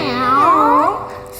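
Young voices imitate a cat, drawing out a sliding, wavering meow together for about a second.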